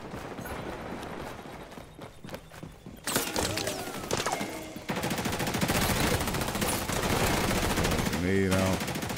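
Rapid automatic gunfire bursts in the multiplayer shooter XDefiant during a zone capture match, loud and dense, with sharp shot clusters and continuous firing that grows heavier partway through, under occasional game noise.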